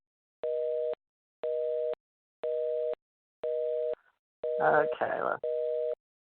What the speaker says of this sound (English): His phone line's busy.